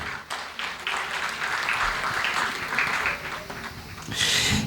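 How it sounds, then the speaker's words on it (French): Sustained applause from an audience welcoming an award recipient to the podium at a pan-African corporate awards ceremony, steady dense clapping throughout that swells louder near the end. "Applaudissez Madame Ismaël Ahamile."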